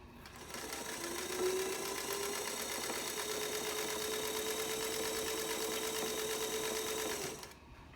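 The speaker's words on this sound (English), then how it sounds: "It's a very beautiful, smooth running machine, as you can see, and it makes nice even stitches." A 1947 Singer 221 Featherweight sewing machine, freshly overhauled, running and stitching with a smooth, even mechanical whir and rapid rhythmic clatter, close up, starting after a brief pause and stopping just before the end.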